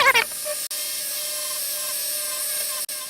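A buffing wheel spinning with Turtle Wax rubbing compound against a Matchbox model car, a steady high-pitched motor whine close by, briefly cut twice, with a short voice at the start.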